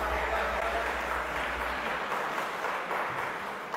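A class audience at a lecture on alternate dispute resolution in Pakistan breaks into applause for someone speaker, a steady wash of clapping that fades slightly toward the end.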